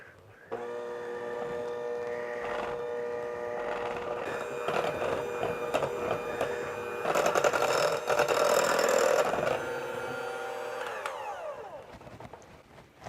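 Electric hand mixer whirring steadily through keto waffle batter made with 35% cream, a continuous motorized whine with shifting pitch as the beaters work, fairly close and alone with no talk.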